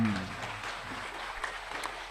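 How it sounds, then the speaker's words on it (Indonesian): Audience applause from a live seminar crowd, a steady wash of clapping that runs through the moment, fairly even in level with no speech over it. "Tepuk tangan dong."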